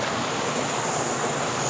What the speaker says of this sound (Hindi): ये है दुधिया में जो कि देख सकते हो, बहुत ही खूबसूरत वाटरफॉल है